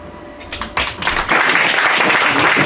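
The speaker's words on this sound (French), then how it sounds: "On applaudit la candidate brésilienne numéro 3" An audience at a Miss and Mister beauty pageant applauds contestant number 3, a Brazilian candidate, with the clapping starting thin and building into steady, loud applause.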